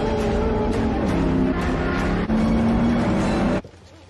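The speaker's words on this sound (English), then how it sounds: "Full throttle on the straight." A race car screams along a straight at full throttle, a loud, close, sustained engine roar with rising pitch and a brief gear-change dip, ending abruptly as the sound drops away.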